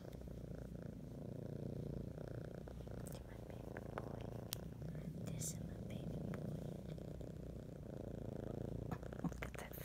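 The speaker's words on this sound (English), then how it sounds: "Such a purr." A cat purrs steadily up close for several seconds, a soft rhythmic rumble, with faint clicks and quiet murmuring now and then.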